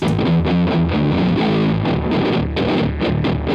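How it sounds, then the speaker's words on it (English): A pitched-down guitar riff played through a harsh, muddy distortion effect: loud, continuous chugging chords with a thick low end, filling the whole moment without any voice. "So here's our first distortion, the poopy sounding one"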